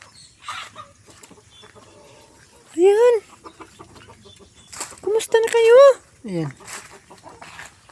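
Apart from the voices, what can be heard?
chickens clucking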